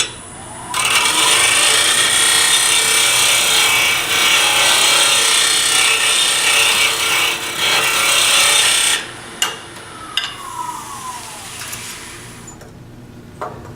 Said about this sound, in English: right now, I'm actually using the parting tool in a scraping mode, tip straight in